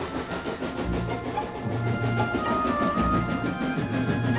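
Toy engine Percy, a little tank engine from a Thomas & Friends model railway, chugging toward the shunting yards with a steady rumbling clatter and faint hiss, fairly close, with some background music and no talking.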